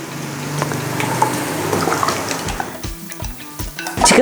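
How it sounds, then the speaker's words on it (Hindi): Raw chicken pieces go into a karahi of lightly golden fried onions for chicken balti karahi, giving a close, steady sizzle and frying crackle with a few clinks of a spoon stirring and scraping the pan. "इसमें अब हम शामिल कर देंगे चिकन"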